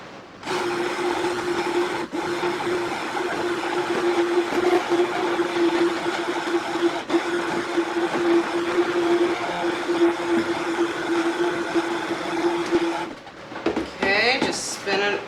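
Stick blender whirs steadily for a long stretch as it mixes goat milk and oils into soap batter. The motor sits at a constant pitch, close and moderately loud, then stops near the end with brief handling noise.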